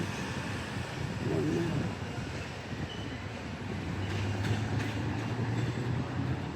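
A train rumbles past nearby with a continuous roar and faint rhythmic clatter, a low hum rising near the end, wind noise throughout.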